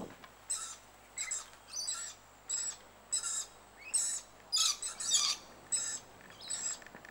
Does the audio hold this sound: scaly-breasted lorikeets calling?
yes